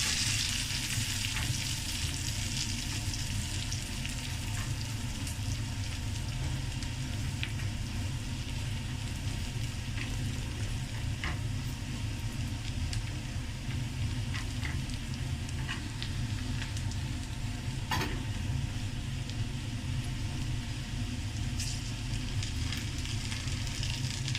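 Garlic cloves and green chillies fry in hot oil for a masoor dal tadka, a dense, even sizzle running continuously with a few faint clicks, no voices over it.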